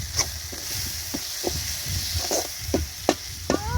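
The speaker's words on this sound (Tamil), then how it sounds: "கருவேப்பிலையை சேர்த்துக்கிறேன்" Curry leaves go into a pan of frying masala with tomato for a Chettinad mushroom masala, a steady sizzling hiss with soft stirring scrapes and occasional sharp crackles, close and fairly quiet, with no talk.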